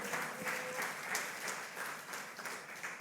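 A church congregation applauds the Lord, a fairly faint but continuous bed of many hands clapping with a few pulsing swells across the short stretch.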